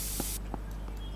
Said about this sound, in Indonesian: ini semprotin dulu, jangan lupa, biar wangi